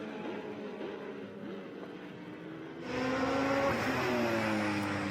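A 1987 Spice GTP car and a 2005 Audi R8 race car run on a track, with engine whine sweeping in pitch as the cars pass, growing louder and brighter as one comes closer.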